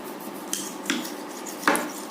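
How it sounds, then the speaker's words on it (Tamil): A knife cutting a lemon in half, heard as three soft, separate taps and clicks against a board in a quiet kitchen, with no speech. "இப்போ நம்ம இதில் லெமன் கட் பண்ணி ஆட் பண்ணிக்கலாம்."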